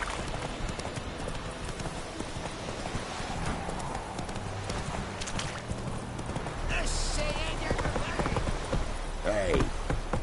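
The horse Roach gallops in The Witcher 3 video game, its hooves clip-clopping in a steady rapid rhythm throughout, with a voice speaking over the hoofbeats.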